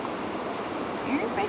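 A creek flows steadily beside a trail in a low, even rush of water with a faint bubbling lift near the end, with no voices present.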